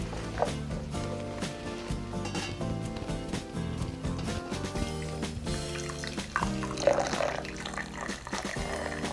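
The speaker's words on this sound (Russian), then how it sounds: "Заливаем его кипятком." Boiling water is poured from a kettle into a filter bag of loose black tea in a glass, a steady liquid pouring and splashing throughout with faint background sounds.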